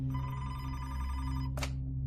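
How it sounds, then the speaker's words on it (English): A telephone rings in a police station, one steady electronic trill that stops abruptly, quiet over a low hum. "after Timmerie had left the police station, the phone in the police station rang, and Officer Matt Owens answered it."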